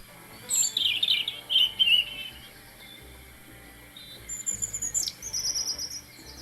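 A European robin sings a sweet, tuneful song of high, thin warbling phrases, delivered in two bursts separated by a brief pause, clear and fairly close against a quiet background.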